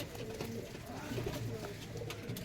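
Lively pigeons kept for show coo in low, continuous murmurs, close by and moderately faint against a busy, steady background.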